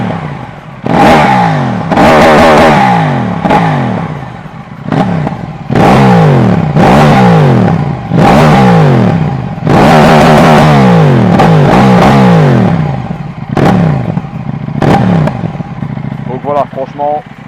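A KTM Duke 790 with an Akrapovic exhaust and no dB killer revs loud and close in repeated deep, raspy blips, with popping and crackling as the throttle drops back between pulls.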